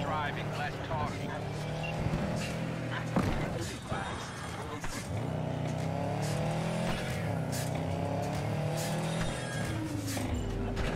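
A game car's engine hums steadily with shifting revs through the whole stretch, with people talking over it.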